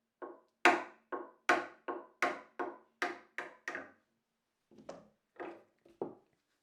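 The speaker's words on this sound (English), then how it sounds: "I'll just give it a gentle tap with the hammer" A hammer gently taps a geared tuning peg into its wooden hole about ten times in a quick, even rhythm, then a short pause and a few lighter taps, close and clear.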